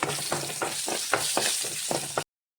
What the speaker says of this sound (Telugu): తాలింపు గింజలు వేగిన తర్వాత కొద్దిగా కరివేపాకు, తర్వాత చిన్నులపాయలు కచ్చా పచ్చాగా దంచుకొని అందులో వేసుకోవాలి